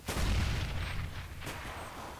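A grenade goes off in a Counter-Strike style shooter, a deep booming blast that rumbles and fades over about two seconds, followed by a faint second crack.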